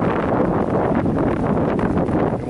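Wind blows on the Appalachian Trail on a spring morning, buffeting the microphone in a steady, loud, continuous roar with gusty fluctuations and no talk.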